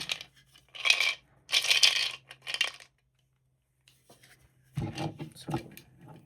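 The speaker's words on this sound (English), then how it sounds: "Actually roll 2 dice." Two dice roll on a table in a few separate bursts of rattling and clattering, close and crisp, with short pauses between the throws and no talking.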